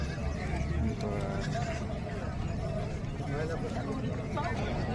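Goats bleat at a goat market amid a crowd, with repeated bleats rising over constant buyers' and sellers' chatter and people talking nearby.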